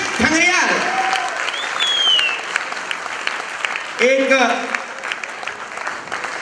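Audience applause after a short stage play about Veer Chandra Singh Garhwali: continuous, even clapping from a seated crowd, while an announcer speaks over it at the start and again midway.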